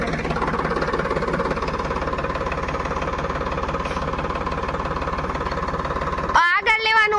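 A farm tractor's engine idles steadily with a constant low rumbling drone and slight knocking throb, then a voice briefly speaks near the end.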